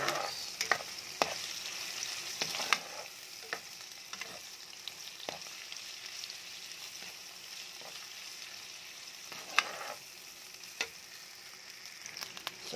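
Ground meat browning in a pan, a soft continuous sizzle broken by scattered spatula scrapes and taps, close and fairly quiet, with no voices.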